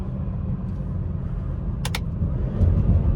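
A 2017 BMW 340i pulls hard under acceleration: a steady, close engine rumble that grows louder toward the end, with a couple of sharp clicks partway through and no talking.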